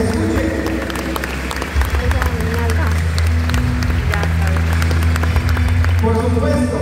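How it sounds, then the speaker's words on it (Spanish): Guests applaud loudly at a quinceañera party, steady clapping filling the room over music and chatter, with a voice heard briefly. "¡Fuertes los aplausos! ¡Que se escuchen!"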